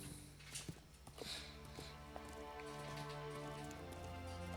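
Horse hooves clip-clop steadily at a walking pace in a Game of Thrones video game, fairly faint, with soft ambient background noise.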